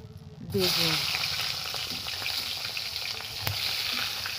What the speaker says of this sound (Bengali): বেগুনগুলো আমি খুব ভালো করে আমি ভেজে নেব।